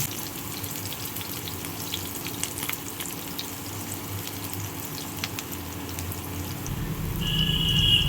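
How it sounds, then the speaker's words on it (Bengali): Chopped onions frying in a little oil until reddish, giving a steady, even sizzling hiss that swells louder near the end, heard close up with no speech. "পেঁয়াজ এগুলোকে আমি লাল লাল করে ভেজে নেব।"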